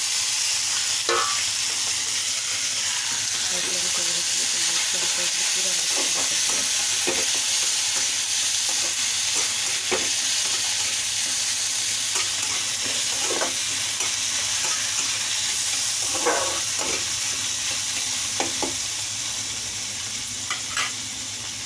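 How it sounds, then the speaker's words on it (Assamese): Chopped tomatoes frying in a pan for paneer bhurji, a steady loud sizzle throughout with occasional scraping stirs of a spoon against the pan, and no speech. "এতিয়া ইয়াত আমি বিলাহী কাটি ৰখা বিলাহী দি দিছোঁ"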